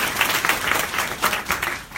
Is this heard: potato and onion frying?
no